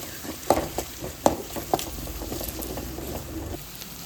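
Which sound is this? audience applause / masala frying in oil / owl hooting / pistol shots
masala frying in oil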